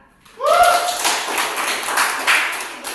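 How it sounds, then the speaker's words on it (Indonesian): A group applauds in a classroom after a presentation, loud mixed clapping starting abruptly and running for under three seconds, with a brief voiced sound right at the start. "tepuk tangan."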